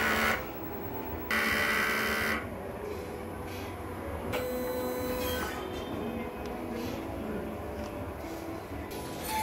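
An inkjet printer runs a head cleaning cycle, a steady mechanical whir and hum with shifting motor pitches and brief louder surges, heard alone at moderate level with no talking.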